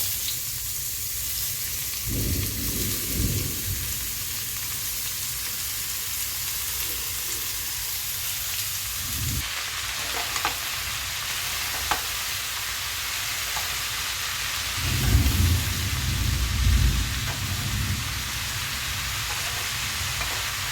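Pieces of ash gourd fry in a pan with a steady, soft sizzle that continues throughout, swelling briefly a few times when stirred, with no talking.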